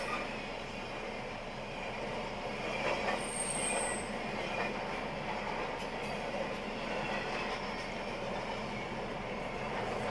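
A loud double-stack freight train on the Norfolk Southern Greenville District rumbles steadily past up close, wheels grinding and squealing on the rails throughout.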